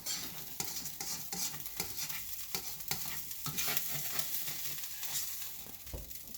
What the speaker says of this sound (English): This stuff's stuck a little bit to the bottom because it's been sitting there. We'll just scrape it up a little bit.